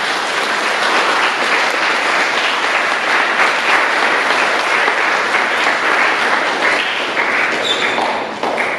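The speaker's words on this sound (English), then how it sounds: "So I want you to clap for this success today." Steady, loud group clapping fills a school Founder's Day 2022 ceremony, a continuous rattle of many hands that holds for several seconds before easing slightly at the very end.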